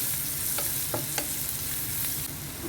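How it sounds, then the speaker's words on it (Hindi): Cumin seeds with red chili powder frying in a pan while being stirred, a steady loud sizzle broken by several sharp scraping taps of the spoon against the pan. "और जाएगा बीच में 1 टीस्पून ज़ीरा। और इसको अब हमें अच्छी तरह से कर लेना है मिक्स।"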